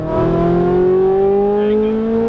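A Ferrari 458 Italia's engine pulls hard on a racetrack, a loud steady rising drone with the pitch climbing smoothly as it accelerates, heard from close inside the car.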